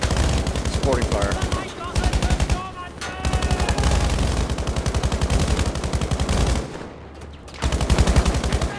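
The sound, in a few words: machine gun supporting fire in Battlefield 5 video game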